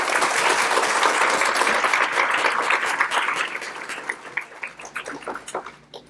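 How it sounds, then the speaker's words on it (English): Audience applause at a family education event about cystic fibrosis, a full round of crowd clapping that starts dense and loud, then thins into scattered individual claps as it fades out. "could we have a round of applause for Elizabeth?"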